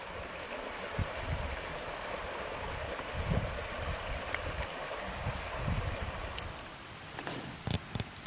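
Water of Caney Creek in an Arkansas wilderness rushes steadily and quietly, a soft broadband wash with occasional small splashes and knocks, with no voices.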